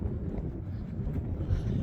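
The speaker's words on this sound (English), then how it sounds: "It's kind of windy and cold, so I'm getting in the car." Gusts of wind on a cold, blustery day buffet the microphone, a continuous low rumbling roar with no talking.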